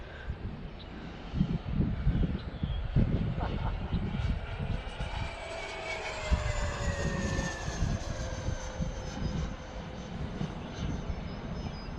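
An E-flite Viper 90mm electric ducted-fan model jet whooshes past in flight during a speed test, its high fan whine rising and falling in pitch as it passes, with a person talking throughout.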